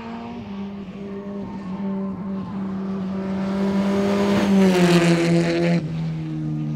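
A powerful 350-horsepower rear-wheel-drive rally car roars past close by on a rally stage, engine note rising and then dropping sharply as it goes, with a brief tire squeal.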